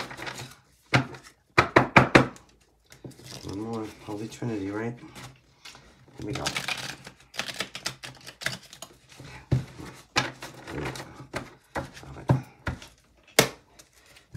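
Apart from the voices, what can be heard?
shuffling a thick old tarot card deck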